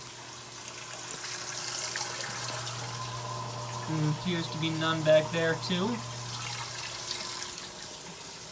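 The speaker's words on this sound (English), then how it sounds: "We're starting to have a little bit of wet standing water in the bottom of the tub." Water runs steadily into a bathtub in an RV being unwinterized, a soft continuous hiss and trickle with a low hum beneath, while someone talks over it midway.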